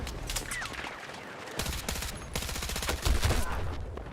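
Rapid Battlefield 6 gunfire: dense automatic bursts and repeated sharp shots keep up almost continuously, loud and close, with a heavier volley near the end.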